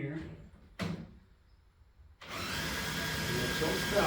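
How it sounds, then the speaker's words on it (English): A cordless drill powering a motorcycle loader gives a brief mechanical burst, then after a pause starts up and runs steadily at a loud, constant whir. "All you use is a cordless drill to power it."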